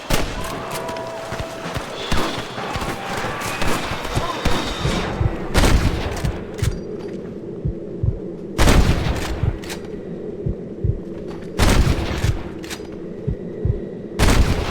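A shootout in Red Dead Redemption: sharp, loud gunshots crack in irregular bursts, some single and some clustered, over rumbling game noise and background movement.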